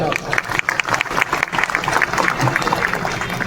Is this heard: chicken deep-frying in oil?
no